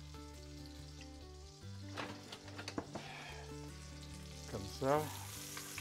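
Thin veal escalopes sizzle steadily in a pan of butter and oil, a constant close frying crackle with occasional sharper spits as pieces are moved, while a voice speaks briefly.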